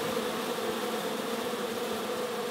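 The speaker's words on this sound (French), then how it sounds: "C'est quand même super agréable de manipuler les abeilles comme ça" Honey bees in an attic hive being handled without smoke make a dense, steady buzzing drone that fills the space, close and continuous with no pauses.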